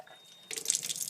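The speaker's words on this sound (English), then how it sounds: "I'm going to go ahead and put it through a cleaning cycle" Water runs from a Kangen water ionizer at a kitchen sink during its cleaning cycle, a steady close splashing flow that starts abruptly about halfway through after a quiet opening.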